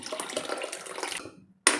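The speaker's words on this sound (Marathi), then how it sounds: "त्यामुळे हे पाणी आपण इथे उसळीला वापरायचं आहे." Black pea cooking water poured into a pan for a usal curry, a close splashing pour that tapers off, a moment of quiet, then a sharp clink of a vessel at the end.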